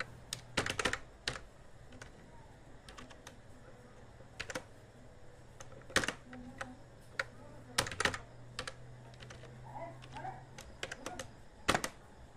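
A password is typed on a computer keyboard, with scattered, uneven keystrokes clicking sharply at close range over a quiet background hum, and no voices.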